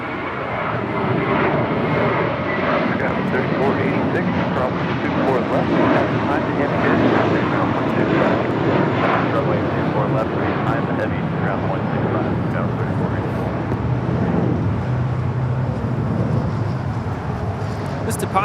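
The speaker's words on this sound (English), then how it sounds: "departing to Boston on a 6-year-old A321 with JetBlue Airways, flight 188" A six-year-old JetBlue Airways Airboard A321 climbs out of Los Angeles International Airport bound for Boston, its broad engine roar steady and loud throughout, with people talking over it.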